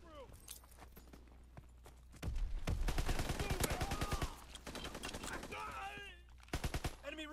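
Grease Gun submachine gun in Call of Duty: WW2 fired in rapid automatic bursts, loud and close, one long burst then shorter ones, with someone talking over and between the shots.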